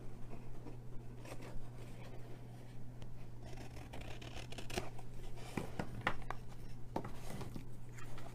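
Scissors snip through a small piece of craft material for a large hexagon Easter box, a series of quiet close cuts and soft rustles over a steady low hum.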